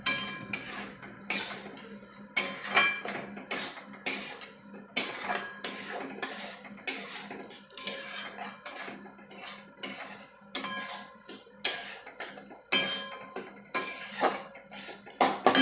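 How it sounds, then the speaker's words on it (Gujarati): A metal spoon scrapes and clinks against a pan in a steady repeating rhythm while roasted flour is mixed with jaggery, close and fairly loud, with no voices. "હવે ગોળ મિક્સ કરી દેવાનો"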